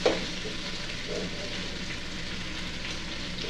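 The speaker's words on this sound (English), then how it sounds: "So now he's going to add his raw onions." Raw onions hit a pot of browned oxtails and sizzle steadily, a soft, continuous frying hiss after a brief clatter at the start.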